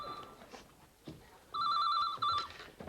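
A telephone bell rings in a studio, with short electronic trilling bursts, the longest near the end. The rings are moderately loud over a noisy room background with faint scattered thumps.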